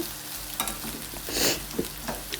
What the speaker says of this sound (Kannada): ಇದಾದಮೇಲೆ ಒಂದು ಕಡೆ ಆನಿಯನ್ನ ನಾನು ಫ್ರೈ ಮಾಡ್ಕೊತಾ ಇದ್ದೆ.